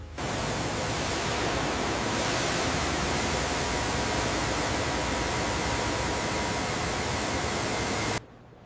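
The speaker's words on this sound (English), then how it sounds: "Foaming, then gushing clear." A steady, forceful rush of a pressure water jet washing foam off a truck, loud and constant, cutting off abruptly near the end.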